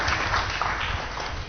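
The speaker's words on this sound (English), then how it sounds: "Give him a round of applause." An audience claps in a church or classroom setting, a dense, steady patter of applause lasting the whole short stretch at moderate loudness.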